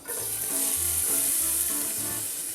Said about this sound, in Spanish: lo primero que vamos a hacer es caramelizar las cebollas que tenemos aquí.